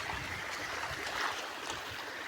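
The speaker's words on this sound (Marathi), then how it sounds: "पाटाचं पाणी सोडलेलं आहे" Irrigation canal water released into muddy farm fields rushes in a steady, dense wash that stays even and unbroken throughout, with no voices.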